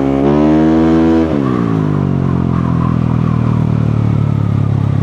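A motorcycle engine hums loudly up close, its pitch dropping sharply as the rider eases off the throttle, then settling into a steady low drone amid street traffic.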